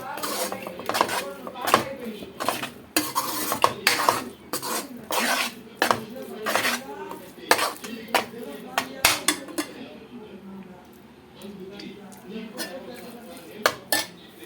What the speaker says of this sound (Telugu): ఇప్పుడు ఇది కూడా చక్కగా దీంట్లో కలిపేసేద్దాము